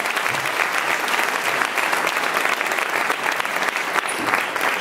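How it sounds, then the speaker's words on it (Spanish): A crowd claps steadily throughout a Fester 2016 gathering in Novelda, a dense, loud wash of applause with no break from start to finish. "aplauso"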